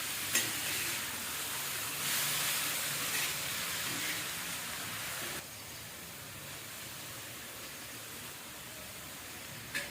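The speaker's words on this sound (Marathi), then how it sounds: "आता याला मिक्स करून घ्या" Dill leaf greens (shepu bhaji) stirred in a frying pan, with a steady close sizzle and scraping stir that grows a little quieter partway through, with no talking.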